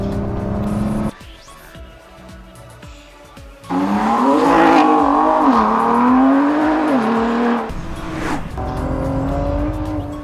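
A Ford GT race car laps a track with a loud engine that rises and falls through gear changes as it accelerates and brakes, close and continuous with brief quieter passages.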